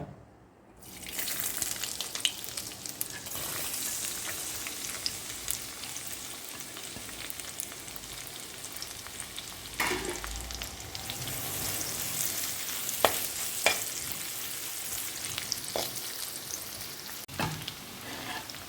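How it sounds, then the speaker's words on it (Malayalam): Ginger and garlic frying in hot oil for chilli chicken give a loud, continuous sizzle that starts abruptly and carries on with occasional stirring clatters, with no talking. "ഇനി നമ്മൾ ആദ്യം തന്നെ നമ്മുടെ ഈ ചൂടായിട്ടുള്ള എണ്ണയിലേക്ക് ഇഞ്ചിയും അതുപോലെ വെളുത്തുള്ളിയും ചേർത്ത് കൊടുക്കുകയാണ്"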